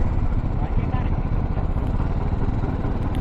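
A motorcycle engine chugs loudly at close range with a rough, steady mid-pitched rumble, and people talk over it.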